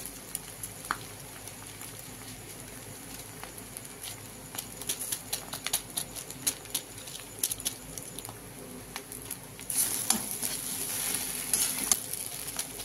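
Maggi noodles with egg and masala stirred in a pan on the gas, soft steady sizzling with scattered light scraping and tapping, growing louder toward the end.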